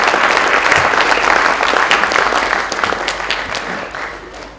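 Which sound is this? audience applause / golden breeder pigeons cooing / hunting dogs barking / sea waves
audience applause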